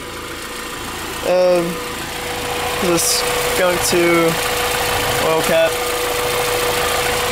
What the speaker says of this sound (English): the engine's pretty loud